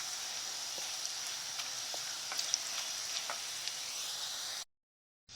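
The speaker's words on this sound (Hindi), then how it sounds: "प्याज को भी इसमें अंदर बिल्कुल जला देना है और नीम के पत्तों को भी इसमें" Onion and neem leaves fry steadily in hot oil for a homemade herbal hair oil, a continuous close sizzle with faint pops, cutting off abruptly near the end.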